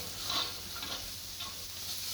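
Soft sizzling of onions frying in a pan as garlic paste is added, with a few faint scraping strokes of stirring; quiet and steady.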